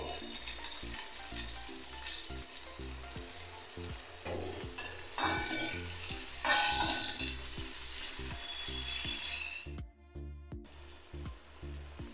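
Garlic and onion sizzle and fry steadily in a hot pan, a continuous close crackle with occasional stirring clinks and a brief dip near the end.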